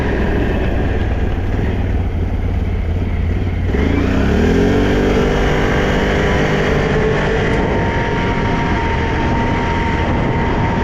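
An ATV engine with an SLG exhaust pipe drones steadily, then climbs in pitch as it revs up and holds a higher whine, loud and continuous with no talking.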